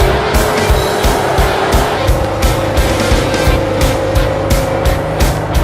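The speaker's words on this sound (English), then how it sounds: "She's all about the skid steer." A skid steer loader digs out a patio area; its engine roars loud and close with a steady, regular pulsing rhythm under a bright, rattling hiss.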